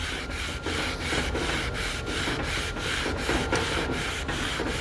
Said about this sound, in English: Now the flywheel, it looks like the direction of the rolling is in this direction, so sand it back and forth